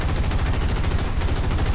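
Rapid automatic gunfire from War Thunder: a dense, continuous burst of rattling shots that is steady and fairly loud, with no talk over it.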